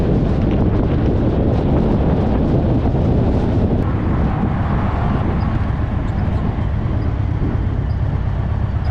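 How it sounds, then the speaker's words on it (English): Strong wind roars continuously against a motorcycle rider's helmet and microphone as the bike travels on a windy day, a loud, dense rumble that never lets up. "It's bloody windy today. The winds are picking up today. It's really windy."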